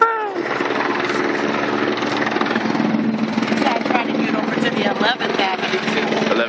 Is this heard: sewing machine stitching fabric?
no